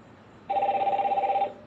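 Outgoing phone call ringback: a steady electronic ring tone starts after a brief quiet moment and holds for about a second, clear and close, with a faint pulsing warble.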